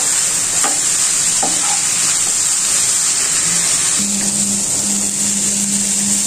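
Shredded cabbage bhaji stir-fries in a pan with a constant bright hiss. Several sharp spatula scrapes come near the start, and a faint steady hum runs through the rest.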